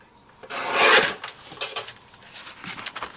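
Pattern paper being trimmed for card crafting, a close, loud rasping rub followed by a run of lighter scraping and rustling strokes.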